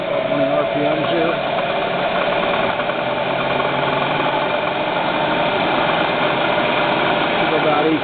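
An ENCO 9 x 49 inch knee mill with its spindle running in high gear at about 1800 RPM gives a steady, dense mechanical whir throughout, with a voice talking over it.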